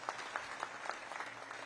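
An audience at a chief minister's appearance at a religious celebration claps, faint brisk applause heard from a distance for under two seconds.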